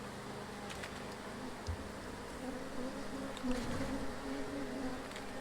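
A steady, dense drone of many honey bees buzzing close by in a hive, a continuous low hum with slight swells and no talking.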